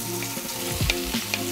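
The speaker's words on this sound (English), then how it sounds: "Finna drop in my veggies now." Peppers, onions and garlic frying in a stainless steel pan, a steady close sizzle with a few louder spits and crackles as the vegetables hit the hot oil, no talking.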